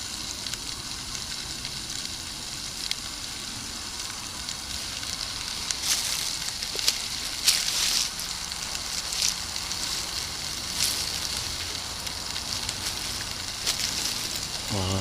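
Coltsfoot frying in a covered pan over an open fire in the woods, a steady soft sizzle and crackle running throughout, with a few brighter hissing bursts in the middle, no talking.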